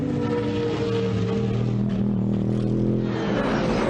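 British GT race cars at Rockingham circuit, a steady roar of engines with several cars blending together at a distance, held at constant loudness.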